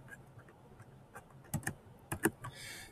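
Keys clack on a computer keyboard in a quiet room, a few faint scattered taps that build into a short burst of quicker strokes near the end.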